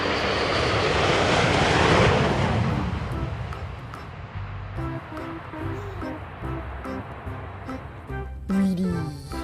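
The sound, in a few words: toy fighter jet engine sound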